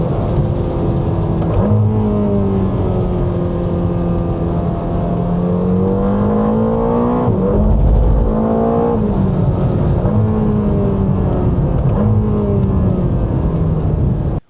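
A 2026 Ferrari engine runs steadily for the whole stretch, mostly a smooth idle with repeated rises and falls in pitch as it revs, loud and close with no voices.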